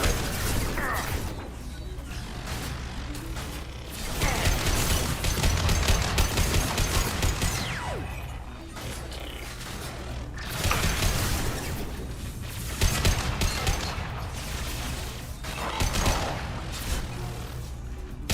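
Sniper rifle fire from the video game Mass Effect 2, a dense game mix of sharp shots, mechanical clanks and low booms spread across the stretch at steady loudness, with a voice briefly present.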